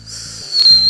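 A beatboxer's mouth imitation of a cricket chirp: a brief, shrill, whistle-like tone that swells louder in its second half, heard close up over low background hum.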